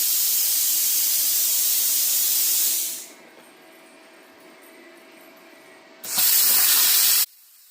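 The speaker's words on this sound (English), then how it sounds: "It's been a few years since I've used a plasma cutter, but it doesn't seem to mind this plate steel at all" YesWelder CUT-55DS plasma cutter running on 110 volts slices through plate steel, giving a loud, steady roaring hiss for about three seconds, then quieter hum before a second short hissing burst that cuts off abruptly.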